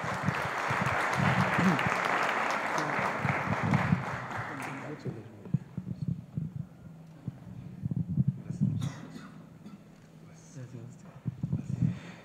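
An audience at a church tribunal gathering breaks into dense applause for several seconds. The clapping then cuts off and a voice speaks over the quiet room.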